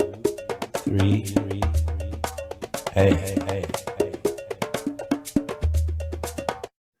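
Looped African drums with a cowbell-like clack drive a busy rhythmic groove, with deep bass thumps and a chanted vocal echoing through a delay effect, close and loud throughout.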